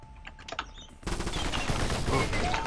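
Shotgun fire in the video game Cobalt: a few sharp shots at first, then a dense, continuous burst of loud gunfire and explosive noise filling the rest.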